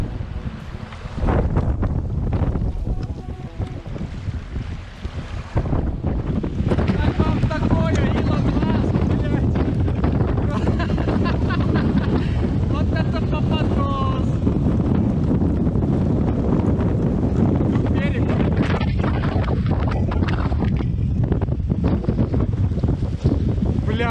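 Strong wind roars across a microphone beside the Volga river near Cheboksary, with large rolling waves churning underneath in a loud, continuous rush that barely lets up.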